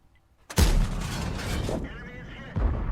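Tank cannon fire in an online tank battle game: a sudden loud blast followed by sustained rumbling and a second heavy report near the end, with a voice speaking over the action.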